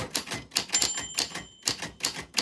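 Bursts of typewriter keystrokes clatter in quick, uneven runs, close and clear, with a bright bell ding ringing briefly among them.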